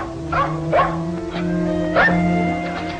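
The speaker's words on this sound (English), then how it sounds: "Cute dog you have there, trying to get in that door." A dog at a door gives several short yips and barks mixed with whimpering whines, close and clear, in an irregular series of bursts.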